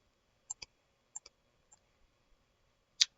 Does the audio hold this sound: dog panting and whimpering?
no